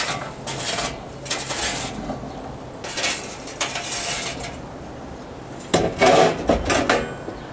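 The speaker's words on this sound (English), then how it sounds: "Empty our charcoal right out on the Dutch oven." Hot charcoal is dumped out onto the lid of a Dutch oven in a front porch cooking setup, giving several loud, gritty clattering bursts with short pauses between them.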